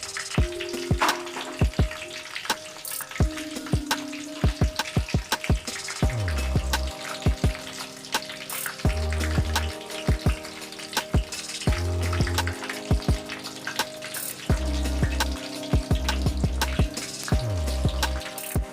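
Aloe vera pulp bubbles gently in oil over a low flame for homemade hair oil, a soft close crackle and drip with frequent sharp pops and clicks throughout, no voices.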